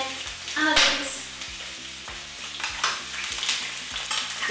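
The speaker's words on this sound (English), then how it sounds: "That beautiful sizzle, that oil all around" Pieces of goat meat sizzle and crackle in hot oil, with scraping and stirring clatter running through the crackling, which stays steady and close.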